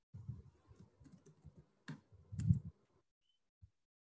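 Someone types a name on a computer keyboard. The keystrokes come as a quiet, close run of soft clicks for about three seconds, then a single click after a short pause. There is no speech.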